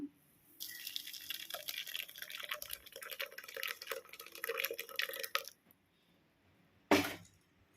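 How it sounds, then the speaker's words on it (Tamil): Watermelon juice made without added water is poured and strained through a filter, giving a few seconds of steady close trickling and splashing liquid, then a pause and a short sharp clink or splash near the end. "நம்ம இப்போ ஒரு ஃபில்டர் வச்சுட்டு நம்ம வடிகட்டிக்கலாம்."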